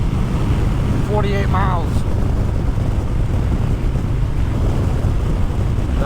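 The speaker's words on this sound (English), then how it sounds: "This wind is crazy." Strong wind blasts steadily across the microphone of a motorcycle rider on a long highway ride, a loud constant roar throughout, with someone speaking briefly over it near the start.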